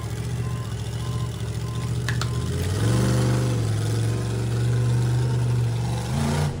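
A monster truck engine at a stadium event, idling loud and near before revving up into a sustained rising roar that holds and then dips, its pitch shifting as the throttle is worked.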